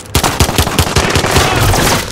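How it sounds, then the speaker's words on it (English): Rapid gunfire in Call of Duty Warzone Pacific, a loud burst of quick, close shots that blur into a dense rattle of automatic fire with no talk over it. "Under hostile fire."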